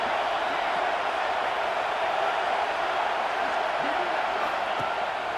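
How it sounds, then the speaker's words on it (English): Football stadium crowd at a college game making noise on third down, a dense, steady roar of voices filling the whole stretch without letting up. "This dog crowd is off the leash, and they are coming after them, bringing noise on 3rd down."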